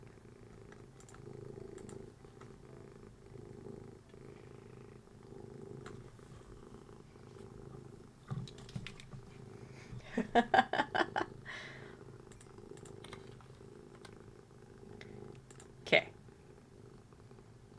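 A cat purrs near the microphone during a live Minecraft stream. A faint, low, continuous rumble runs throughout, with a brief spoken word and scattered clicks and thumps over it.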